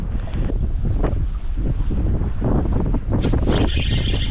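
Strong wind buffets a fishing boat out on choppy water during a fierce storm while fishing for zander, with loud roaring gusts and microphone wind noise over sloshing waves and hull knocks, sustained and close.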